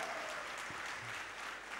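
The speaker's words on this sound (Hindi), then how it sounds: "जोरदार तालियां इनके लिए।" Crowd applause at a political state convention in Maharashtra, a steady dense burst of clapping filling the whole short stretch at full strength.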